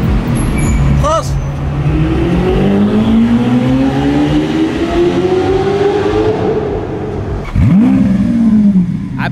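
Lamborghini sports car accelerating hard, its engine note rising steadily in a long sweeping climb, then a second sharp rev near the end, loud and close with people talking over it.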